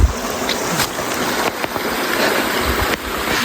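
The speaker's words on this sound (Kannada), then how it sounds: "ಅದು ದೊಡ್ಡ ಫಾಲ್ಸ್ ಹೊಸದೇವತಾ ಫಾಲ್ಸ್ ಇದೆ ಗೈಸ್ ನೋಡಿ" Hosadevata Falls, a big waterfall in a forest, as a loud, dense, continuous rush of falling water close by, with brief bumps of handling noise and no voices.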